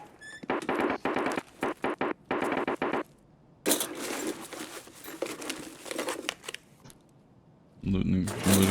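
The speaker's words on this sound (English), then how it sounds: "Looting filing cabinet." Looting a filing cabinet in Escape From Tarkov: bursts of rustling, shuffling and crinkling paper with drawer thunks, close and loud, broken by short pauses and ending in a low rumble.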